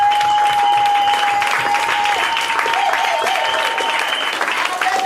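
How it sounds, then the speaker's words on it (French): Applause and cheering fill a French Christian café evening in Rennes, a dense, steady wash of clapping that runs throughout, loud and close, with a faint sustained tone riding under the crowd noise. "Est-ce qu'on peut acclamer les rois, les rois?"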